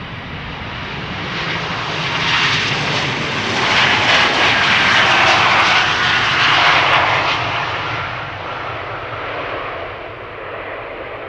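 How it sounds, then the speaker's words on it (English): An Embraer E195-E2 jet bound for Alicante departs Amsterdam Schiphol, its engine roar building, peaking loud near the middle and fading gradually as it passes. "E2 Embraer 195 to Alicante is coming"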